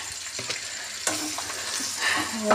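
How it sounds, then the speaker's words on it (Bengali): Potatoes fry with spices in a pan, crackling and sizzling softly close up while a utensil stirs them with a few scraping knocks, and nobody speaks. "এই মশলার সাথে আলুগুলো সুন্দরভাবে ভাজা হয়ে যাক"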